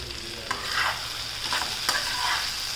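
Brinjal curry with onion, garlic, masala and ground coconut-coriander paste being stirred in a pan, a soft continuous sizzle with a few gentle scraping strokes of the spoon, close and fairly quiet.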